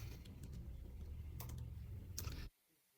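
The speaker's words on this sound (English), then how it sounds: "Just typing here" Fingers type on a computer keyboard in a rapid, close patter of small clicks and clacks for a couple of seconds, then stop abruptly, leaving near silence.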